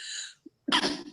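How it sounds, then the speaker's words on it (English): A single sneeze-like burst of breath and voice, close and fairly loud, preceded by a brief sharp inhale-like sound after a moment of quiet. "about to sneeze"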